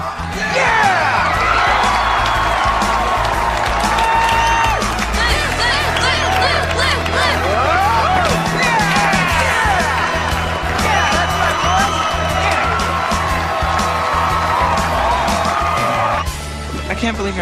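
School pep rally crowd cheering, whooping and yelling loudly and continuously in a large space, with shouted voices mixed in throughout.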